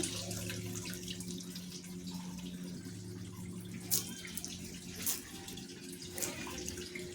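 Gongura leaves are washed under a running tap in a sink, a soft, steady trickle of water with a few louder splashes and clatters as the leaves are swished about, heard quietly and close, with no talking.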